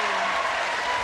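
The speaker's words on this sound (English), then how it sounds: "they deserve all of the applause that you get" Brief burst of studio audience applause on a 1984 television game show, a dense wash of clapping at full level that runs through the whole short moment without a pause.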